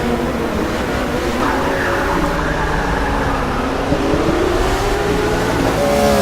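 Race cars in a racing video game roll off the start of a race, engines droning and rising together in a steady, dense blend of revving motors with a commentator's voice running over them.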